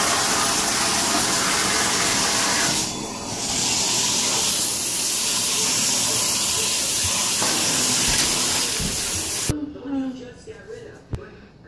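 Shower water pours in a steady loud hiss for most of the stretch, then cuts off abruptly, leaving faint room sounds and a few small knocks; voices are present at times.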